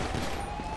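Rapid bursts of gunfire in the police mod LSPDFR crackle continuously through a short, loud moment, with a faint steady tone underneath.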